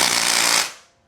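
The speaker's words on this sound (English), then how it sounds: "Somebody use the air hammer." Air hammer rattles briefly against metal in a motorcycle workshop while installing frame sliders on a CFMoto 675SS, one loud rapid burst that cuts off and fades.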